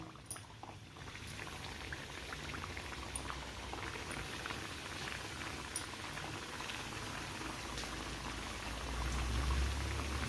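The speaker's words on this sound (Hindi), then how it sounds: "अब हम घी में और चंद्रकला को इस तरह से सेक लेंगे" Chandrakala sweets frying in ghee, a steady close sizzle and bubbling like light rain, continuous and soft, growing slightly fuller toward the end with no talking.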